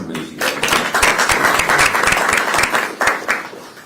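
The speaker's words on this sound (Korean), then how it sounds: "박수 한번 해주시기 바랍니다" An audience applauds at a Korean political gathering to honor an emeritus professor, producing a brief burst of dense, lively clapping with a few sharper, louder claps standing out.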